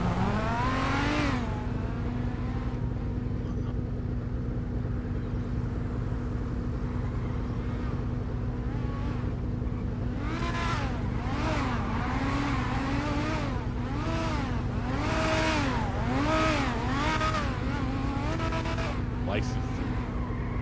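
A Nissan car engine in the video game GTA 5 revs repeatedly, rising and falling in a series of whining bursts over a steady hum, while a person talks over it.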